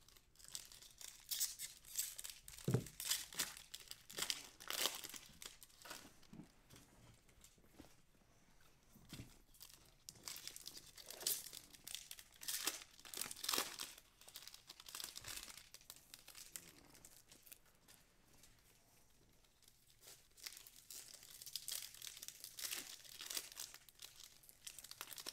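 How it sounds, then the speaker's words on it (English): Plastic top loaders for trading cards crinkle and crackle during a Topps Series 1 hobby box break, coming in repeated bursts of rustling over about 25 seconds with brief quieter gaps, close by and fairly soft. "Sorry if y'all have extra crinkling on opening top loaders."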